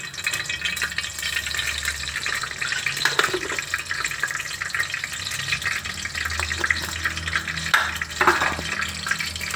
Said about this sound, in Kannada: ಈಗ ಸಾಸಿವೆ ಚಿಟಪಟ ಅಂತು